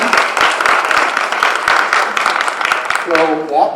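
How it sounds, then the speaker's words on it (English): An audience applauds at a national civics bee competition. Dense, steady clapping fills the room for about three seconds, then fades as a voice begins speaking near the end. "Let's give a round of applause, all of them."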